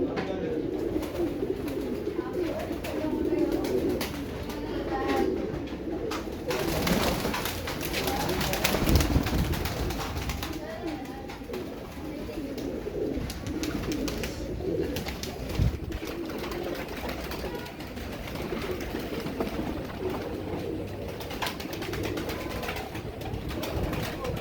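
A large collection of pigeons coos continuously at close range, with soft overlapping calls and wing and cage rustling throughout.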